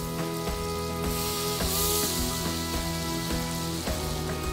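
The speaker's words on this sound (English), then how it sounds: "Hear that sizzle." Butter sizzling in a hot pot, a constant crackling hiss over a low steady hum, with a brief brighter burst of spitting.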